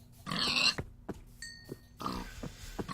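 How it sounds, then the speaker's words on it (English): Pigs oinking in Minecraft, with a few short grunts and squeals spread across a quiet stretch, close and fairly soft, with no talking. "I also feel a craving for meat, so let's slaughter some pigs"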